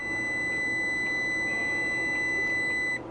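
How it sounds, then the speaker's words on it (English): Continuity-test beep from an Aneng talking multimeter with its leads touched together, a single steady high-pitched tone held for about three seconds against light background hiss. "and you get a single beep. This is continuity test."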